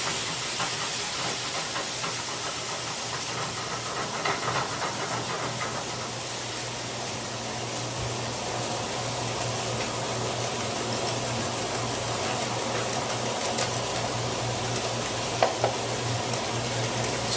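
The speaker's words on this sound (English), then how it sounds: "And we're going to whisk that up together" Soy sauce and sweet and sour sauce whisked together for sweet and sour chicken, a steady wet stirring rustle over a constant low hum, with a couple of brief clicks near the end and no talking.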